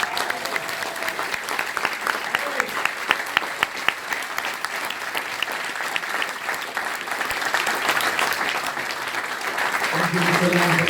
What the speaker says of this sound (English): I'm going to get one huge American-style applause